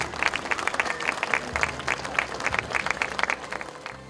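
Audience applause after a traditional folk costume show in Turán, with many individual claps rising and falling at an uneven pace, moderately close and fading slightly toward the end.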